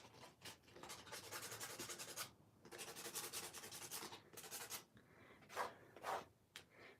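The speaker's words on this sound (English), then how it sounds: "Just sand it, because it gives a nice texture." Water-soluble pencil rubbed against sandpaper for watercolour texture, a close, loud rasping in several bursts, with a few short scratchy strokes near the end and no talk.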